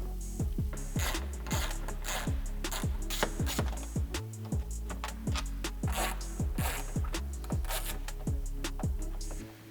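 A 1/4-inch ratchet with a 10 mm socket removes the front bolts of a Tesla Model 3/Y frunk, giving dense, rapid pawl clicking in repeated close, loud bursts that run nearly without pause.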